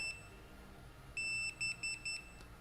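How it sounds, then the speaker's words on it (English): A motorized window shade gives one longer tone followed by a run of quick, evenly spaced electronic beeps confirming it has paired, clear against a quiet room. "Those quick beeps mean it's paired and it's ready to operate."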